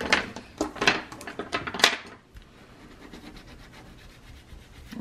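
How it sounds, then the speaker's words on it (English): A folded cover edge is burnished with about half a dozen quick, close rubbing strokes in the first two seconds, followed by faint handling noise. "I really want to burnish this edge."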